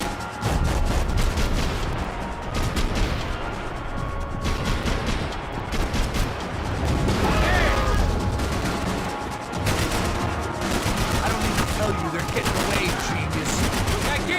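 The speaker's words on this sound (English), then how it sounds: "Concentrate with bullets whizzing past my head!" Intense, close gunfire from the video game Max Payne 3 hammers almost without pause, with rapid bursts and heavy booms. Bullets whiz past, and shouting voices break in now and then.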